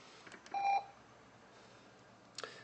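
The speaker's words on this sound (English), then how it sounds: "that's the baby monitor if you guys are hearing that beeping" A faint electronic beep tone sounds once, soft and thin against a quiet room, with a couple of small taps around it.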